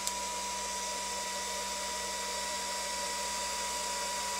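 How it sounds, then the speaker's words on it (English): A power supply's cooling fan runs under load during a bench load test, giving a faint, steady whir with a constant hum and no change in pitch. "The fan ramps up."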